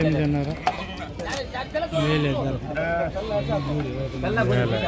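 Sheep and lambs bleating repeatedly at the Gudur sheep market, a crowded stream of overlapping calls heard beneath continuous nearby talk.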